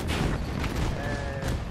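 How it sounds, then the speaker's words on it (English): Gunfire from an AH-64 Apache helicopter in Battlefield on the Hourglass map, a dense rapid rattle of shots under the steady drone of rotor and engine, loud and close for a brief burst. "I'm shooting at him."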